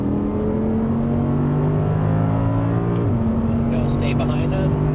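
An Audi R8 accelerates hard on a race track, its engine droning loud and steady from inside the car as it climbs in pitch. A voice talks over it.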